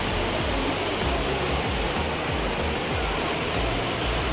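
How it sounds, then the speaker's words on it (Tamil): A hidden waterfall near Kookal village roars as a dense, constant rush of falling water, loud and close, filling the whole stretch without pause and with no voices. "இதுதான் அந்த ஃபால்ஸ்."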